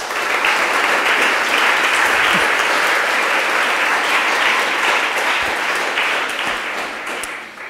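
Sustained, loud applause from a seated audience at a panel discussion on feminist strategies, a thick even wash of clapping that holds steady for several seconds before tapering slightly at the end.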